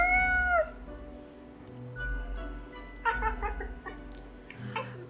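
A cat in the video game Death and Taxes meows in short, bright calls: one at the start, then two more a few seconds apart, over a quiet, low background hum.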